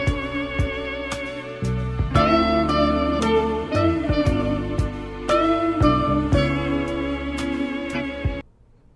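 An excerpt of a soul song plays loudly and continuously, full instrumentation with a steady beat, cutting off abruptly near the end.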